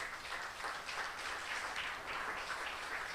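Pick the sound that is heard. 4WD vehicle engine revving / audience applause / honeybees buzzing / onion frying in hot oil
audience applause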